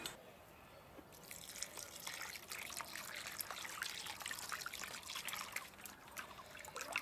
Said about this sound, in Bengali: ছানার মধ্যে উপর থেকে এবার জল দিয়ে দেব ছানাটাকে খুব ভালোভাবে ধুয়ে নেওয়ার জন্য।